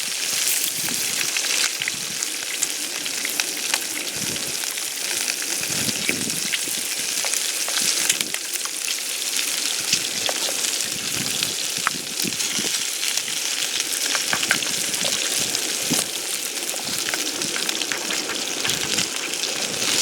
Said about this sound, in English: I'm gonna cook my steak and eggs in this Trangia frying pan.